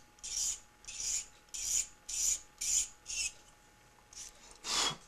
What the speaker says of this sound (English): I'm going to scrape the ends of these sides off here